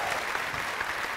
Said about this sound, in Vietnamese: Em ơi, em vỗ tay lớn quá.